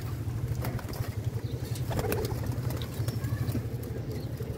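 A pigeon flaps its wings as it takes off, brief fluttering bursts over a steady low hum and background noise, with faint cooing nearby.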